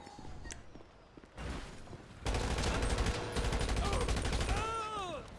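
Rapid automatic gunfire erupts in a Grand Theft Auto shootout, loud sustained bursts after a few scattered shots, with game effects trailing off at the end.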